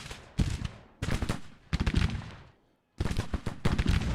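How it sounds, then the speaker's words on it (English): Volleys of musket gunfire from retreating Civil War infantry in the strategy game Grand Tactician, in several loud bursts of overlapping shots with brief gaps and a pause before more firing. "Firing while they go."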